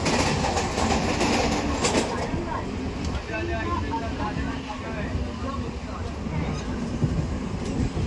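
A moving passenger train heard from inside the carriage makes a steady loud rumble with rhythmic rail clatter and wheel noise throughout.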